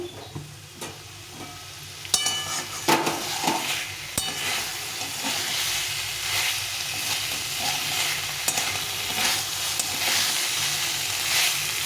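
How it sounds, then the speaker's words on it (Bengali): Potato and pointed gourd sautéing in oil in a pan for a vegetarian curry, a steady close sizzle with irregular scraping stirs and clinks of a spoon against the pan, no talking. "এই আলু আর পটলটা কষা কষা হয়ে গেছে দেখো তেল ছেড়ে দিয়েছে"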